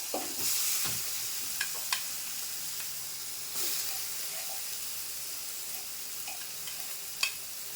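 Chopped onions sizzle steadily in hot oil with asafoetida and turmeric in a pan, a continuous close frying hiss broken by occasional stirring scrapes and taps.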